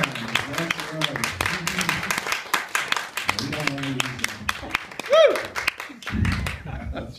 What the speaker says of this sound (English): they are going to greet you with a loud round of applause right now